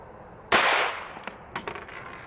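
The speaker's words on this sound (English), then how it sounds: "So that's a 22 long rifle shooting a solid lead bullet" A single sharp .22 Long Rifle pistol shot firing a solid lead bullet at a lead block outdoors, one loud crack with a short decaying tail, followed by a few faint clicks and rattles.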